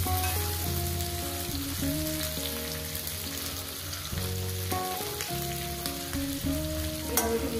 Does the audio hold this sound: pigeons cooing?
no